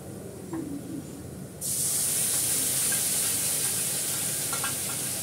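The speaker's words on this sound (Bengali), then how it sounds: "এই পেঁয়াজটাকে ভালো করে লাল করে ভেজে নিলাম কালো জিরে দিয়ে, এবার পোস্তটা দিয়ে দেবো।" Onion reddened with nigella seeds sits quietly in a pan until poppy seeds hit the hot oil, setting off a sudden loud, bright hiss that stays steady and close.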